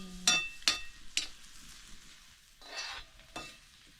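Bitter gourd roasting and being stir-fried in a pan in a Malvani home kitchen; a few sharp spatula scrapes and clinks stand out over a faint, soft background sizzle.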